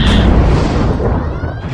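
A sci-fi show's phaser fire and explosion effect: a loud, dense roaring blast fills the short stretch without pause and fades slightly toward the end.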